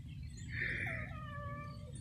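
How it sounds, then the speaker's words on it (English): A friendly black stray neighborhood cat gives a single drawn-out meow, close and clear, rising then falling over low background hum. "This is our stray neighborhood kitty."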